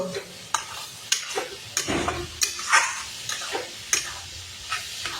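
A spoon scrapes and stirs fried spice masala in a hot pan for a home-style fish curry, quiet sizzling beneath a series of sharp, irregular clinks and scrapes against the metal, close and alone.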